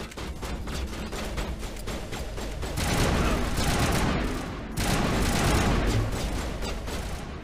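Heavy, sustained volleys of video game gunfire roar at close range, dense rapid shots swelling into louder bursts midway, with no voices over them.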